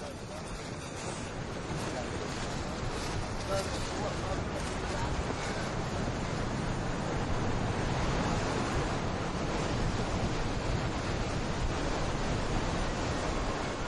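Strong wind and surf roll continuously along the Essaouira coast in Morocco, a broad steady roar of breaking waves and gusts buffeting the microphone, loud and unbroken with no talk.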